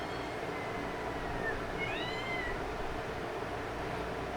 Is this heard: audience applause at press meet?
no